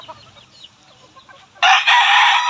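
Soft, faint murmuring of white pearl breed chickens is heard first, then a loud, close, sustained call bursts in and holds for about a second.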